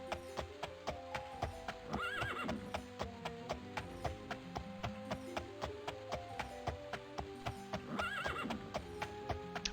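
Horse hooves clip-clop in the 1996 PC game The Elder Scrolls II: Daggerfall, a quick, regular clopping gait that runs throughout, with two neighing whinnies at about two and eight seconds over a musical background.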